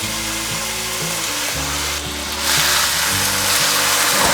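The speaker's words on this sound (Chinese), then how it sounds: "锅内放入少许的油，把马铃薯放入锅内" Potatoes fry in a little oil in a wok-style pan, a loud, close, continuous sizzle and crackle that swells a little louder partway through, with occasional stirring scrapes and no talking.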